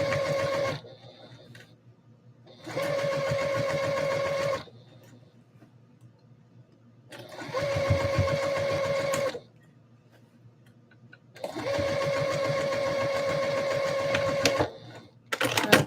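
A sewing machine hems a handmade item in three steady motorized runs of about two seconds each, with quiet gaps between them and no speech.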